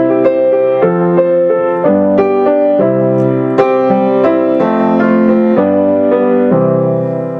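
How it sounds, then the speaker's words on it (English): A keyboard plays a bright major-key sequence of sustained chords and notes, changing roughly every second in an even rhythm, loud and close with no voices. "This is the sound of a major key."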